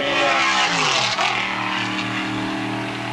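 A race car from the 1981 IMSA Kelly American Challenge at Brainerd, driven by Gene Felton, roars loudly down the home straight. Its engine note drops sharply in pitch partway through as it passes close by.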